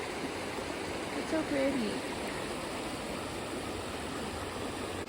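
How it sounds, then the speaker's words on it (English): Water flows steadily in a mountain creek along the Colorado Trail, a constant even rush heard close, with a brief voice speaking over it. "I am stopping here at this creek."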